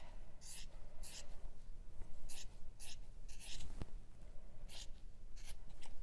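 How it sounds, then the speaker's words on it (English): Scissors snip straight across a knit sweater just under the armpit, a series of short crisp cuts in an uneven rhythm, close and fairly quiet over a soft background hiss. "So I'm going to make a snip just under the armpit here and cut straight across, straightish."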